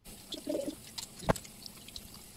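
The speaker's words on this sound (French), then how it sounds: "Je passe ensuite au rinçage de tous mes autres pinceaux en faisant attention qu'il ne reste plus de savon." Water rinsing soapy paint brushes, faint splashing and dripping with a short sharp splash partway through, quiet and close, with no talking.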